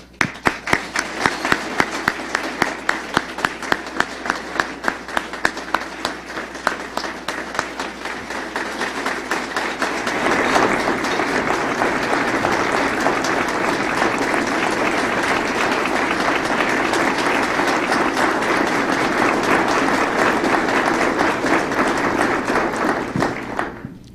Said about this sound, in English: Please join me in thanking them and applauding their accomplishments.